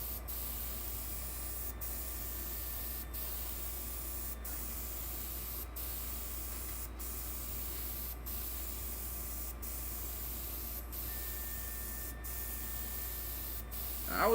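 An airbrush sprays paint coats onto an HO scale model restaurant building, a continuous close hiss that holds steady throughout with no talking.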